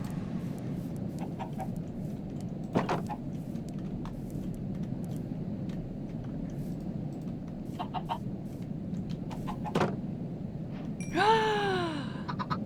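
A chicken in the survival video game Primal Winter clucks with a few short sharp calls and a brief rising squawk near the end, heard over a steady low ambient wind-like game background.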